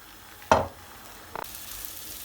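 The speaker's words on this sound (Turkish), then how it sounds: "Ve güzelce bir 5 dakika kavuracağım." Ingredients for Egyptian-style rice pilaf sauté in a pan, a short sharp clatter followed by a quiet sizzle and a brief scrape, close and without speech.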